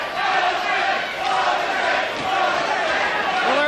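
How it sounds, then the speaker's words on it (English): A boxing arena crowd chants a fighter's name during a Mike Tyson bout, a loud, dense roar of many voices rising and falling steadily throughout. "Crowd taking up a chant of Jose."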